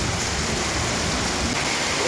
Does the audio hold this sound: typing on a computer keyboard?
no